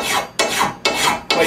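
A file rasps across a steel trapping tool to sharpen its edge, about four quick, firm strokes in steady rhythm, close and bright with no talking.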